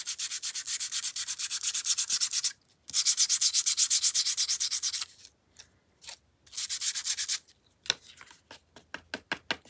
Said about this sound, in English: They're just those little discs, those Tim Holtz sanding discs.